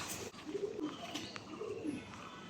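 Two soft, rolling coos come from a nearby pigeon, one after the other, over a quiet, slightly hissy background.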